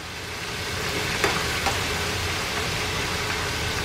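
Shrimp fry in hot oil with a steady, close sizzle that keeps a constant hiss and crackle throughout, with a couple of faint ticks and no speech.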